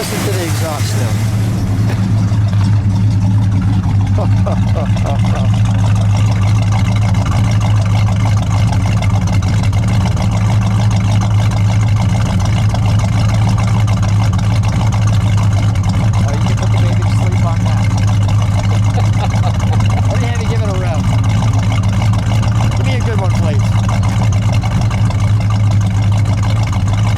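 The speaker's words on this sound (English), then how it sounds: "Let me listen to the exhaust now." 1970 Dodge Dart GT with a 340 V8 and high-performance manifolds idling with a deep, steady exhaust rumble, loud and close, while people talk over it.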